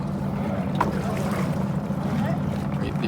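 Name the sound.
racing boat engines starting and warming up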